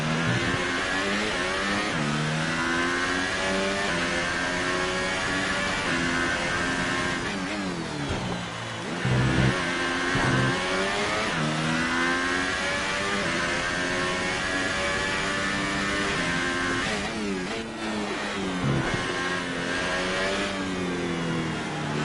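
Formula 1 car in the F1 2018 game at the Monaco Grand Prix, its engine revving loud and steady with rising and falling pitch through gear changes and brief dips, alone without talk.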